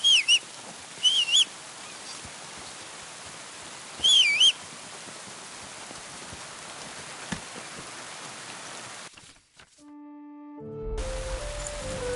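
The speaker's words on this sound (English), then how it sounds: "Are you whistling just for fun?" Short melodic whistles call a horse in Kingdom Come Deliverance 2, two quick ones near the start and another a few seconds later, over a steady hiss of rainfall before a music cue begins.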